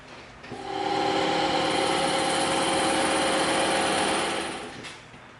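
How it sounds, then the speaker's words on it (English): A bandsaw runs up and rips through a piece of EVA foam with a steady, close whining buzz that holds for about four seconds before the cut ends and the saw winds down. "we're going to take this over to the bandsaw and rip it out real quick"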